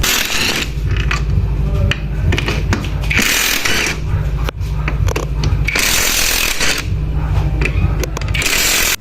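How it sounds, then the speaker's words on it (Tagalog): An impact wrench removing 12mm screws from a Yamaha NMAX V1 scooter, in loud continuous bursts of rattling hammering with brief pauses between runs, close and dominating. "sa pagtanggal nito gamit tayo ng impact wrench, size 12mm"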